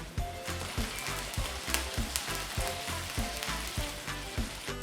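Marinated chicken shallow-frying in a pan, a quiet steady sizzle broken by frequent sharp crackles and spits, close and without voices.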